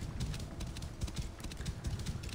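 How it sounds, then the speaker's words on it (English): Horse hooves pounding at full gallop in Assassin's Creed Origins, a fast, steady run of low thuds across the whole stretch, close and fairly loud with no talking. "This is the fastest the horse goes."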